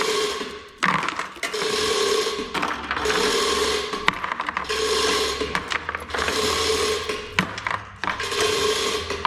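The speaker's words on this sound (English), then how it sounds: "A little bit slow running this chainsaw one-handed." A chainsaw, run one-handed while lawn mower lifting hooks are being fabricated, cuts in about six harsh rasping bursts separated by brief pauses, close and loud.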